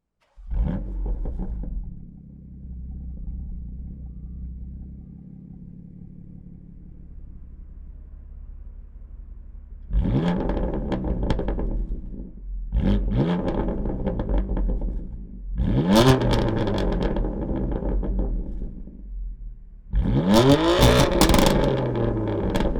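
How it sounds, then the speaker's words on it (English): A 2018 BMW M3 CS fitted with an M Performance titanium exhaust idles with a low rumble, then gives four loud, close revs that climb sharply and fall back in turn. "my very own 2018 BMW M3 CS, which is equipped with the M Performance titanium exhaust"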